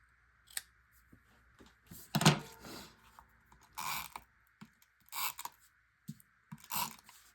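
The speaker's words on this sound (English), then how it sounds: "I'm gonna cut that one right here" Scissors cutting paper for a two-page scrapbook layout, heard as several separate crisp snips spaced a second or so apart, close and fairly quiet, with no talking.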